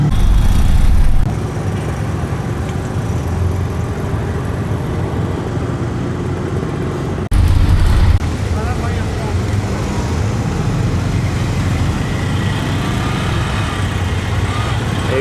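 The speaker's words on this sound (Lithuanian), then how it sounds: "Eismo daug." Road traffic in Sri Lanka rumbles past a moving tuk-tuk, a steady broadband roar of engines and wind that swells briefly at the start and midway, with occasional voices in the mix.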